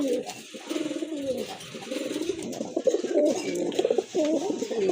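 Pigeons kept for sale, including Danish pigeons, coo steadily in a near, continuous chorus of low, throaty rolling calls with no talk over them.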